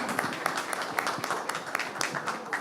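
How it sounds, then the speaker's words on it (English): Audience applause at a live awards ceremony, a steady wash of many hands clapping with scattered sharper claps standing out, moderately distant and fairly quiet, with no speech over it. "can we have a big round of applause"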